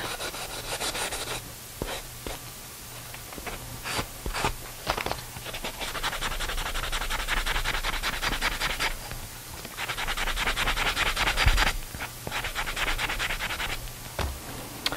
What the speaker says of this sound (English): This is a pretty rough grit sanding block.